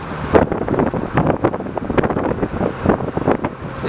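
Gusty wind buffets the microphone in uneven bursts in an open-top BMW M Roadster, producing loud low rumbling thumps with a faint inline-six engine hum underneath.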